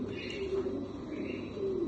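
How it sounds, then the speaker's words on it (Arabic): Red Aleppo pigeons coo in a low, steady, throaty drone, close and continuous, with faint chirps and background murmur around it. "حمام مطارح"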